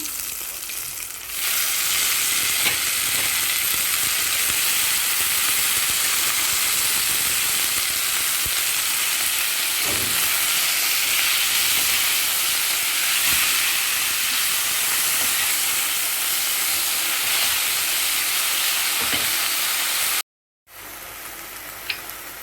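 Chillies, cumin and mint leaves frying in a pan for mint chutney give a steady, loud, close sizzle with broad hiss and a few soft stirring knocks. A brief dropout comes near the end.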